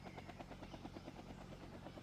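A helicopter in the strategy game Vietnam '65 beats steadily, its rotor chopping in a fast even pulse that stays constant at a moderate, fairly distant level.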